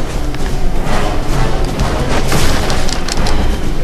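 A flash gun goes off during Resident Evil 6 gameplay in a cold outdoor area, producing loud, dense booming blasts that roll on without a break and fill the whole stretch, with no talking.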